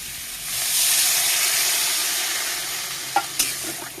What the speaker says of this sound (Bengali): মশলা দিয়ে ভালো করে একটু ভেজে নিলাম। এখন জল দিয়ে দিচ্ছি।